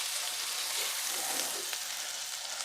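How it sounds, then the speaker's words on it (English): Chopped onions sauté in melted butter in a skillet, giving a steady, close hiss and sizzle with faint crackles and no voices. "we're going to get these sauteed, and it will not take but just a minute, y'all. Onions and butter."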